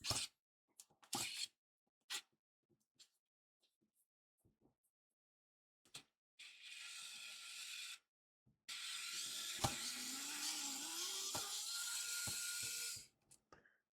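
A cordless power driver runs in two sustained whirring bursts while driving screws during a Cen Tech model 97245 metal detector repair, preceded by scattered clicks and small handling taps; fairly close and alone, with no talk.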